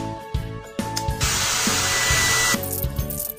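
A steady rushing blow of air from a hairdryer in a cat hair salon game switches on partway through, runs for about a second and a half, then cuts off, with bouncy game music underneath.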